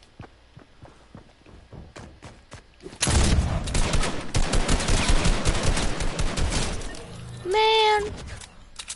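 Video game gunfire on a PS4 broadcast: light footstep-like ticks, then a sudden sustained burst of rapid automatic fire lasting several seconds, followed by a short electronic tone.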